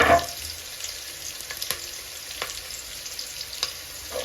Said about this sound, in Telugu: ఇవన్నీ ఫ్రై అవనిద్దాం కాసేపు